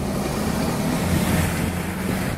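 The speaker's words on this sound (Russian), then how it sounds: "Офигенно волны пляшут." Waves slosh and splash steadily around a boat on open water, loud and close, with heavy wind buffeting throughout and no talking.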